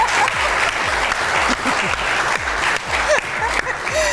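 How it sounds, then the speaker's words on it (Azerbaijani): An audience breaks into loud, sustained applause after a meyxana battle with a Lankaran youth team, many hands clapping densely with a few voices and whistles over it. "Gəlin alqışlayaq."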